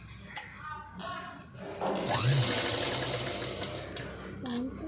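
A sewing machine stitches around the edge of a cloth blouse hanging, running in short bursts of mechanical whirring with pauses between them while someone talks throughout.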